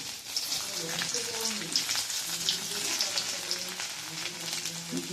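Garlic tossed into a hot pan where chicken has just been fried, giving a steady crackling sizzle throughout, with music playing faintly underneath.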